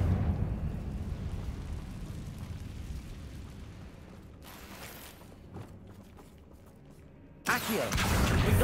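Confringo blasting spell exploding in the Hogwarts Legacy video game, a loud burst followed by a rumbling, crackling decay, then a second sharp blast near the end, with a faint voice briefly heard.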